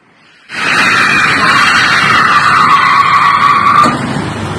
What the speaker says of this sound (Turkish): otomobilin kaza nedeniyle duran kamyonete arkadan çarpması